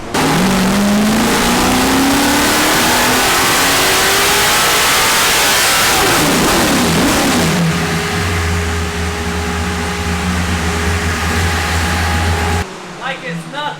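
A 632 big-block engine in a BMW roars and revs loudly, pitch climbing, then settles into a deep steady rumble before cutting off near the end.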